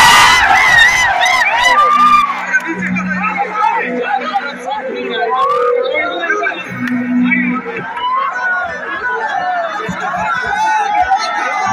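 Crowd at an outdoor stage show at a fair breaks into loud clapping and cheering, a dense, steady roar of applause and shouting voices that holds for the whole stretch.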